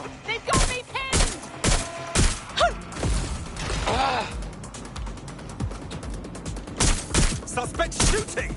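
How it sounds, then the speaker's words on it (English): Gunfire from a suspect shooting in Watch Dogs Legion, sharp bursts and single cracks in irregular clusters, loud and close, with brief shouted voices between the shots. "Suspect shooting!"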